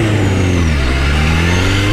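A Suzuki GSX-R 1000 motorcycle engine holds a medium-rpm rev, loud and close, a steady droning tone that sags slightly and recovers over two seconds with no speech.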